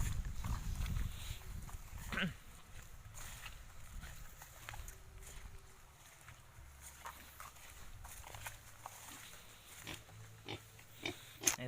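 Pigs and piglets kept in a pen on a small Filipino backyard farm, grunting and shuffling at close range amid light footsteps and general pen noise.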